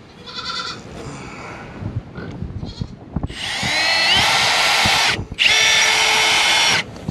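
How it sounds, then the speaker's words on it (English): Power drill driving screws into wood for a pig pen water system, two long loud whirring runs separated by a short pause, after softer clattering handling sounds and a faint goat bleat. "Since this pipe lays flat right up against the wood, I can go ahead and put these screws all the way in."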